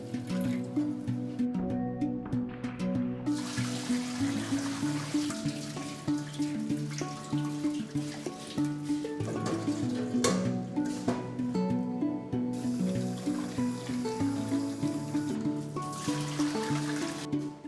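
Water running and sloshing over bulgur wheat being washed in a bowl for raw meatballs, a steady trickling, splashing wash with shifting tones, close and continuous.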